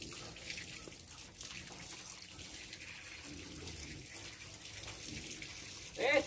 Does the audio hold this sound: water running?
yes